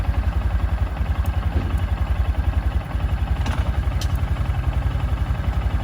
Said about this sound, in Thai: เดี๋ยวผมลองสตาร์ทเครื่องให้ดูนะครับ นี่เงียบมากนะเงียบมาก